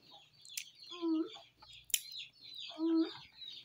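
A flock of chickens gathered together waiting to be fed gives low, throaty clucks in a couple of drawn-out bursts, with sharp scratchy noises and faint background voices in between.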